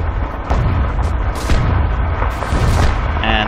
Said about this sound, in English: Put some shrapnel here